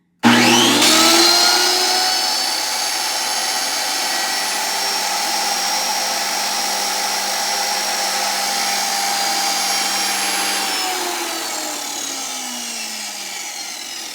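A Rockwell 31-325 sander grinder runs on its own with the guards off after alignment adjustment, spinning up sharply into a loud steady whine and grinding hum, then winding down in pitch near the end, no voices.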